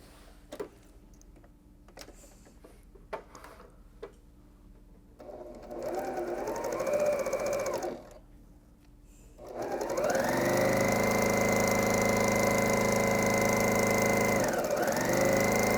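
Close, clear whirring of a sewing machine stitching large pinned quilt pieces, with a few light clicks first, then a short run, a pause and a longer steady run.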